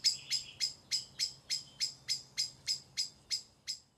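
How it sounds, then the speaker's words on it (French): Birds sing at night under artificial light, giving a clear series of about a dozen evenly spaced high chirps over a faint low hum. "les oiseaux sont complètement désorientés par cette lumière"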